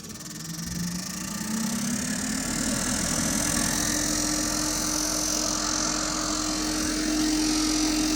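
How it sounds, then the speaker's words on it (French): A house ventilation unit (VMC) spins up and settles into a steady, continuous hum that rises in pitch over the first couple of seconds, then holds loud and even with a broad airy whoosh, no voices. "on va pouvoir démarrer la VMC"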